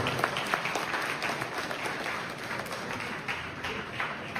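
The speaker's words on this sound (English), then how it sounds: "Let us give him a big round of applause." Steady applause from a crowd at a business breakfast meeting in Toronto, a dense wash of clapping that holds evenly throughout.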